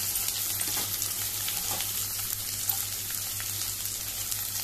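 Onion and capsicum frying in a pan for a Goan-style chilli paneer, a steady, close sizzle running throughout without talk.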